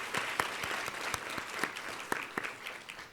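Applause from the audience at a law school moot court final round, a modest crowd clapping with several sharp, clearly separate hand claps over a softer bed of clapping, fairly quiet and steady.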